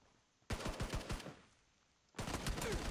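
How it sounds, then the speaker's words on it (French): PUBG Mobile gunfire, a rapid burst of automatic shots followed by a pause, then another loud volley, sharp and close. "Ça tire derrière moi. C'est dans la maison que ça tire."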